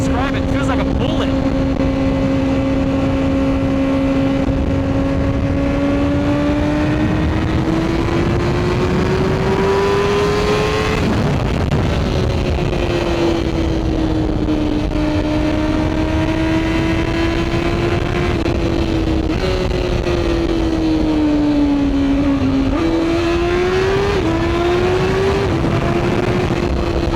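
A Honda CBR1000RR-R Fireblade motorcycle engine revs hard while riding, its whine rising and falling through shifts over about 27 seconds, loud and close with steady wind and road rumble underneath.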